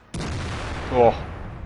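An artillery shell lands in a World of Tanks battle with a sudden loud boom. A second rumbling burst follows a moment later over a low engine and ambient drone.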